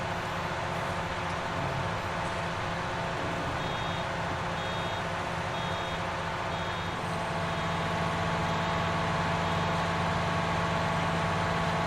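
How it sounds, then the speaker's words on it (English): A large farm tractor used for baling runs steadily on a farm, its engine a continuous loud drone with a faint repeating beep partway through and no talking. "The tractor is obviously plenty big enough for baling with."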